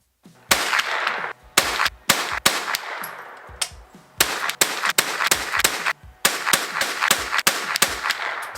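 .22 rifle shots ring out at a target in a rapid, uneven string of about eighteen sharp cracks, each followed by a short echo, loud and close, with brief pauses between bursts.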